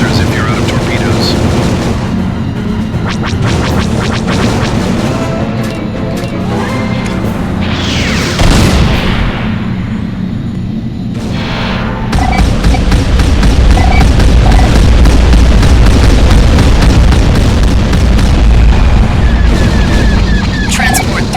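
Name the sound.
explosions and laser fire attacking a transport in a space video game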